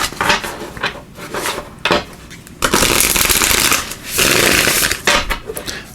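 Oracle cards being shuffled in several bursts of crisp riffling and sliding, close and fairly loud, with short pauses between shuffles.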